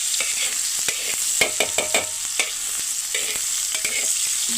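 Vegetables roasting in oil on a wood-fired village stove give a steady close sizzle, broken by repeated scraping stir strokes in an irregular rhythm, with no talking.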